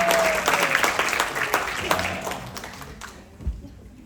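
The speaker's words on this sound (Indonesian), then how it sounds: "Kita beri tepuk tangan dulu pada semua yang tadi meramaikan acara." An audience applauds at a political event, a fairly dense clapping that swells and then fades out over a few seconds.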